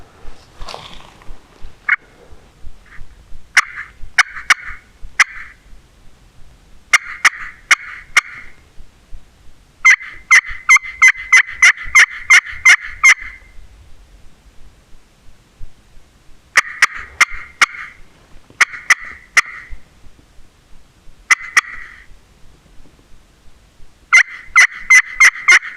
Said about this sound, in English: Got one to gobble.